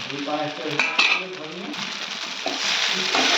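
Eggs and peanuts frying with chow mein in a pan, a steady close sizzle with metal utensil scrapes and clinks as the food is stirred.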